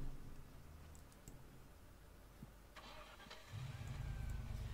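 A car engine in the video game Arma 3, a low hum at first that rises into a louder, steady engine drone toward the end, with a few faint clicks along the way.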